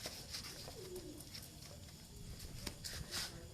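A champion breeder pigeon cooing close by in soft, low repeated phrases, faint and intermittent, with some rustling and background noise.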